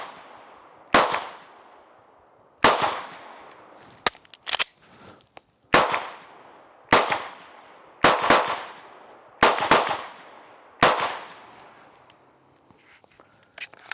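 Gunshots from a firearm fired during a multiple-target transition drill, about a dozen loud sharp reports in clusters of singles and pairs with brief pauses between them, echoing slightly with no talking.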